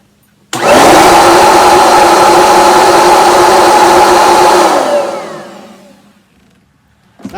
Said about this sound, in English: Not the quietest vacuum in the world.